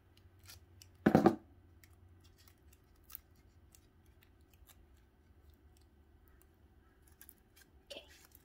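Scissors snip off extra tape on a red envelope paper lantern in one sharp, close cut, followed by a couple of faint clicks and light handling noises in an otherwise quiet room.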